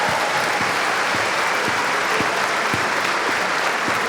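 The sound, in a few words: live show audience applause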